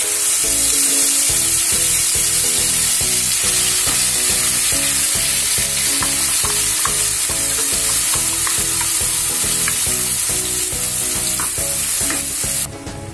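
Ground spice paste goes into hot oil with cumin, turmeric and asafoetida and fries with a loud, steady sizzle, while a spoon stirs in a regular rhythm throughout.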